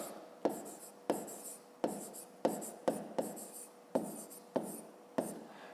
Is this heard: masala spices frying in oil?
no